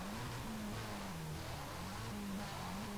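Race car engines in Need for Speed World, a steady droning hum with pitch rising and falling as the cars accelerate, moderately quiet and continuous throughout.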